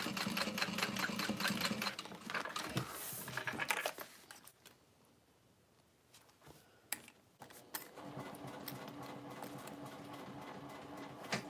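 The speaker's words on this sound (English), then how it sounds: "what I'm going to do is sew right here, just because it'll add some stability" A sewing machine stitches across a tote bag in fast rattling bursts, running steadily, pausing for a quiet stretch in the middle, then starting up again with short stop-start runs.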